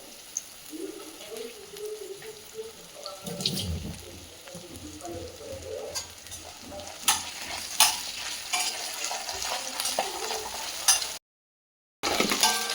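Chicken with moringa leaves and ginger-garlic paste fries on a tawa in a soft, close sizzle, with scraping stirring strokes and clinks of the utensil, briefly cutting out near the end.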